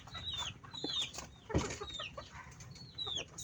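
Pet chickens, a mother hen among them, at feeding time outdoors, with several short high calls and soft clucks scattered across the clip over faint background noise and one brief closer thump.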